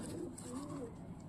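A pigeon gives a soft, faint coo, a low rolling call over a quiet room background.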